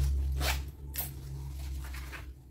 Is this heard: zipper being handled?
yes